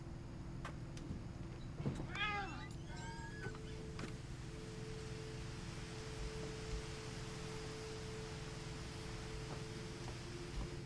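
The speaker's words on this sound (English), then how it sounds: "Where's that kitty? Where is that kitty?" Cat meowing in the video game What Remains of Edith Finch, a short run of several high plaintive meows early on, fairly clear over a quiet hum and faint noise bed that carries on afterward.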